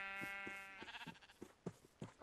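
Several sheep bleat one after another in Minecraft, a rapid series of nasal wavering calls close by, followed by a few short clicks.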